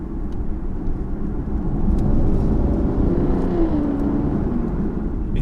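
A 5.9-litre V12 in a 2014 Aston Martin Rapide S drones steadily from inside the car while driving, a smooth low hum that swells slightly mid-way with no talking.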